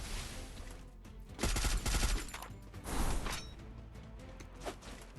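Gunfire in the mobile game Free Fire crackles in two dense bursts over steady background game noise, with a few lighter shots trailing after.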